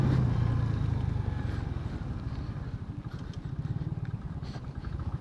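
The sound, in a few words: 100cc motorcycle riding uphill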